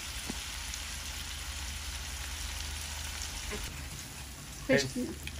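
A spice paste for a prawn and fish curry sizzles in a pan, a steady, fairly quiet frying hiss that runs throughout, with a brief clatter of stirring near the end.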